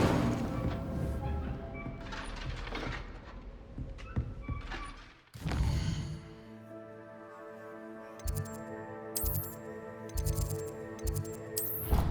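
Incendio fire spell cast in the video game Hogwarts Legacy: a sharp burst cuts through layered game music and effects, followed by a sustained magical whoosh with tonal ringing and several bright crackling flares.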